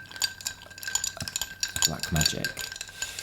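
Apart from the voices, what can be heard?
stirring a dirty martini in a glass until it chills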